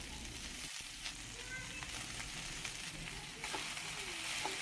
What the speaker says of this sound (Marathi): बारीक चिरलेला कांदा घालूयात, बारीक चिरलेला लसण घालायचा आहे, हिरवी मिरची घालूयात। तेलामध्ये व्यवस्थित फ्राय करून घेतलं